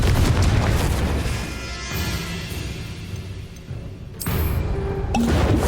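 Fire-blast spell explosions in Hogwarts Legacy, cast against Inferi: dense booming bursts with crackling fire and rumble, continuous and loud with a sharper blast near the end.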